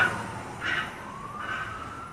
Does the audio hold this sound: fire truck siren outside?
yes